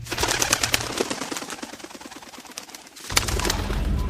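Hybrid racing pigeons calling close by in a loft, soft repeated coos and rustling with bursts of sharp clatter, with a quiet gap followed by a louder stretch of activity.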